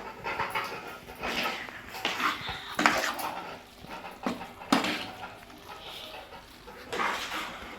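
Prawn fry with curry leaves being turned in a pan: close metallic scrapes and clinks of the spatula over a soft hiss of frying, in uneven bursts.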